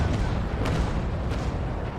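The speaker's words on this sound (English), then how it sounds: "Coming around for another volley." A ship's cannon broadside volley rumbles in the Naval Action video game, a sustained deep booming roar with a few sharper cracks inside it, heavy and continuous for a couple of seconds.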